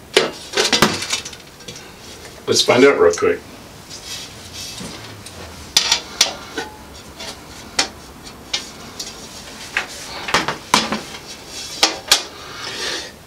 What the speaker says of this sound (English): I am going to go ahead and take off this other piece of glass.